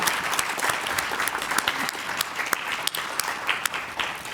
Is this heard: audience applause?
yes